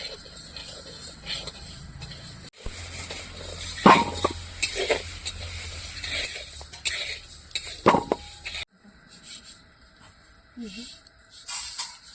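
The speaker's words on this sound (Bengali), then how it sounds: "এখন আমি এখানে ভেজে নেব মুগ ডাল মুগ ডালটাও ভাজা ভাজা গন্ধ বেরোবে তখন নামিয়ে দেবো" Mung dal is dry-roasted and stirred in a pot at an outdoor winter picnic, with a spoon scraping and clattering against the metal in a few sharp bursts amid quieter stirring and talk.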